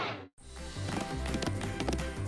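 Cartoon horse hooves from a PAW Patrol rodeo scene clip-clopping in a steady, even rhythm. The beats are loud and close after a brief silent gap at the start.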